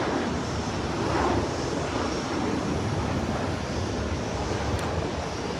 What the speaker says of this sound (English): let's see if we're watching the takeoffs